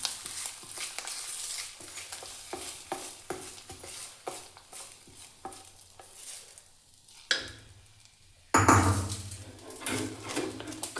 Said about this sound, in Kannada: ನೋಡಿ ಈ ಒಗ್ಗರಣೆನೇ ಕುಕ್ಕರ್ಗೆ ಹಾಕ್ತಾಯಿದ್ದೀನಿ.